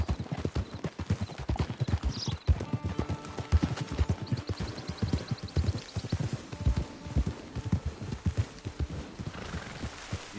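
Horse hooves clip-clop steadily across ground in the Western game Red Dead Redemption 2, close and rhythmic, with a neigh or whinny and faint background game sounds.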